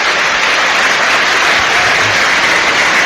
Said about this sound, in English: Applause around the stadium for Brian Wise